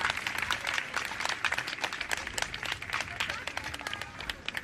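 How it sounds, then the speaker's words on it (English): Crowd applause at a Hawaiian elementary school May Day celebration, a dense, steady wash of many hands clapping that carries through the whole stretch at moderate loudness. "Let's go one more round of applause for Papa Ekahi"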